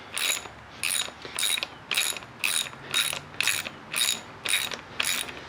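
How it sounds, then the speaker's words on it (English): Ratchet wrench with a 10mm socket loosening the bolts on a Fox Talas mountain bike fork, clicking in nine even bursts at a steady rhythm, close and clear, with no talking. "just take your 10mm, undo both of these bolts"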